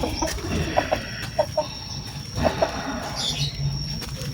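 A chicken, a tailless buntung breed, clucks in short bursts nearby, with soft background noise and a few scattered sounds around it.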